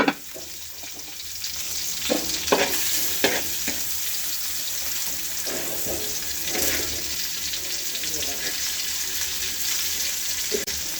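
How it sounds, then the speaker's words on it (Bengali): Chopped onions frying in oil in a pan for a beef dish, a steady close hiss and sizzle with occasional scrapes and stirring knocks, no voices. "তো আর একটু তেল লাগবে, তেল দিয়ে ভেজে নিচ্ছি।"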